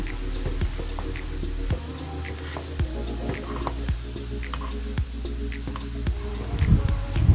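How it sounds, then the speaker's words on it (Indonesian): Coffee grounds stirred into boiling water in a village kitchen: a repeating series of sharp, soft taps and wet clinks at a steady pace over a continuous low bubbling hum, with a louder splashy flurry near the end. "Kita aduk-aduk dulu supaya airnya dan kopinya menyatu"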